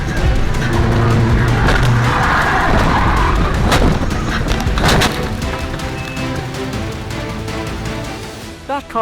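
A speeding car skids out of control, loud tyre screech with crunching impact bursts early, then fading engine and road noise to the end.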